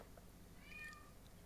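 A cat gives a single faint, thin meow against a steady low background hum, with no one talking.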